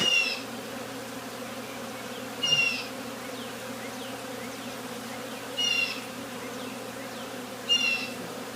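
Honey bees buzz steadily inside a bay window, a faint continuous drone with a few brief closer buzzes passing by.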